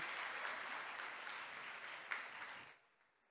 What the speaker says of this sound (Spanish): Pido un fuerte aplauso para ellos.